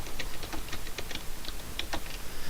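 Rapid, light keystrokes on a computer keyboard tap out a short entry in a steady patter of small clicks, close and fairly loud over a constant low background hum, with no voices.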